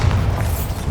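A Bombarda spell blast in Hogwarts Legacy, a short loud low boom with a rumbling body that fills the brief moment, no talk over it.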